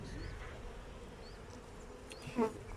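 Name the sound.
honeybees buzzing at hive frames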